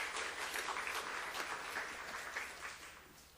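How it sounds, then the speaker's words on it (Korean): Church congregation applauding to welcome a speaker: steady, dense clapping from many hands that tapers slightly toward the end, with no talking over it. "나오실 때 우리 박수로 환영하겠습니다"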